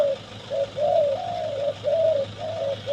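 A decoy dove coos repeatedly in a soft, rolling rhythm, close and clear against a quiet background hum.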